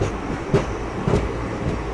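The Kanchanjungha Express, running Agartala to Sealdah, starts to move, with a low rumble and rhythmic rail clicks and clacks heard from inside the coach, steady and moderately loud.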